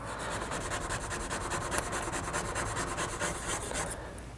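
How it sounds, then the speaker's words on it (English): A scraper dragged over burnt-on residue on a glass stove top, a rapid series of close, gritty scraping strokes in a steady rhythm, with no talking. "try and carefully scrape some of the burnt on stuff off of here"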